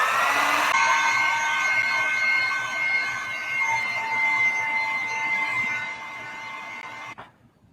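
A heat tool blows a steady, loud whirring hiss over WoodUbend moulding glued onto a nightstand. It runs without a break for about seven seconds, then cuts off abruptly.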